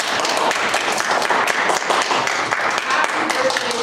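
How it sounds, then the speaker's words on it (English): Steady applause from an audience thanking panelists at a Charter of Rights and Freedoms anniversary event in Calgary, dense continuous clapping filling the room at close range. "So a big round of applause for everyone."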